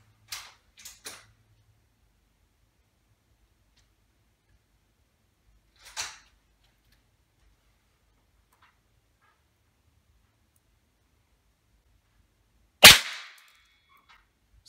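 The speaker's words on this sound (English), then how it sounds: "I lost count of how many pellets we've been shooting here." An air rifle fires pellets at a computer in a makeshift indoor shooting range: a few sharp, isolated snaps spread apart, with a loud close crack near the end and no talk.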